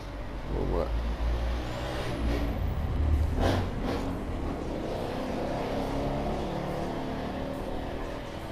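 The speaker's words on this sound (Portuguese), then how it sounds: "Passou uma moto aqui sem escapamento aqui, fazendo mó barulheira aí." Motorcycle with no exhaust fitted passing in the video game The Crew: a steady, loud engine roar under a dense traffic wash, with a brief rising whine early on and no talk.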